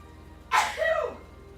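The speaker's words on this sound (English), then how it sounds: "Did you guys not just hear me sneezing?" A single sharp sneeze bursts out close by, a quick breathy explosion followed by a short voiced trailing tail, then quiet room tone.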